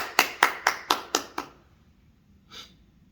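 Six sharp, evenly spaced hand claps ring out close and loud in a Korean church service, then stop, followed by silence and a single soft breath.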